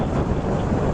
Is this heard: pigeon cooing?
no